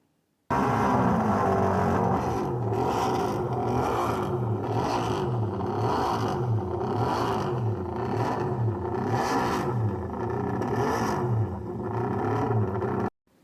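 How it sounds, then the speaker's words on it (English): A three-cylinder MV Agusta racing motorcycle engine blares loudly, revving up and down in a rhythmic series of throttle blips with a raspy, uneven tone. "Now listen to the 3-cylinder."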